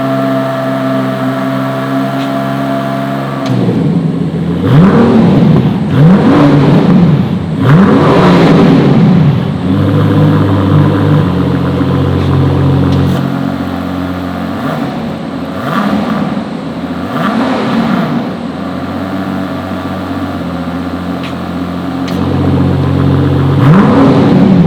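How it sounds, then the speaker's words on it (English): A Rolls-Royce Cullinan Series II Black Badge with the Spofec-upgraded twin-turbocharged V12 revs repeatedly, loud and close, each blip rising in pitch and falling back to a steady idle between pulls, with no voices. "turbocharged V12 engine that in this SPOFEC version also has a power upgrade"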